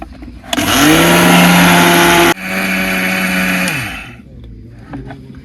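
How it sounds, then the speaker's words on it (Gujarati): A mixer grinder grinds amaranth (rajgira) into flour in a village kitchen, a loud steady motor whine that stutters briefly midway, resumes, then winds down and stops near the end, with no talking. "મિક્સરને ચાલુ કરી નાખશું."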